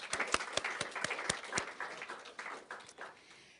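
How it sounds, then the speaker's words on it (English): Audience applause at a poetry lecture, dense clapping with several crisp individual claps early, settling into a steady wash that gradually thins. "Let's give them a round of applause, too."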